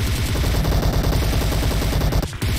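Sustained automatic gunfire in PUBG Mobile, a loud, rapid, continuous rattle of shots that cuts off briefly near the end.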